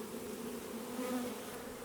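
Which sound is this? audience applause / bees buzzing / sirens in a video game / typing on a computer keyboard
bees buzzing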